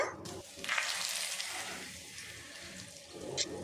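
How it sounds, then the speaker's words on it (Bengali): Two bay leaves drop into hot oil left from frying rohu fish for curry and sizzle with a steady, soft hiss that swells briefly near the start and end. "ওই তেলে দিয়ে দেব দুটো তেজপাতা"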